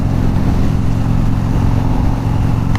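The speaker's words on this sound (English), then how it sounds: "Just crack the throttle and accelerate." Stock Harley-Davidson Dyna motorcycle accelerating hard in top gear, a loud, steady low-pitched engine drone with throbbing exhaust filling the whole stretch, alone with no talk.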